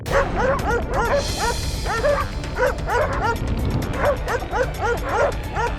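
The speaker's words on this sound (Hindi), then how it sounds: "भौंकना बंद।" Several dogs in a courtroom bark and yip over and over in quick, overlapping bursts. The barking is loud and close and keeps going for the whole stretch, with a low murmur underneath.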